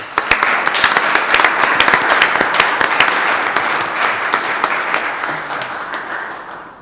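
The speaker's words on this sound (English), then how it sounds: "Let's give them one more round of applause." A room of people at a Grandview city Board of Aldermen meeting claps in sustained, dense applause. It starts strong, holds steady and then slowly fades out over several seconds.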